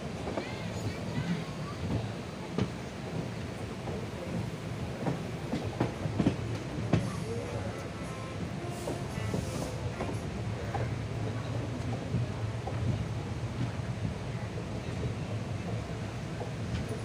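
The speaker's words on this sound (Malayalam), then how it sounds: "ഇടതുവശത്തെ മെയിൻ ലൈനിൽ നിന്ന് ഗുരുവായൂരിലേക്കുള്ള ലൈനിലേക്ക് ട്രെയിൻ കയറുകയാണ് സാവകാശം." An Indian Railways train moves slowly from the main line onto the Guruvayur branch near Thrissur Punkunnam. A steady rolling rumble carries scattered wheel clicks and clanks over the points, and a voice speaks over it.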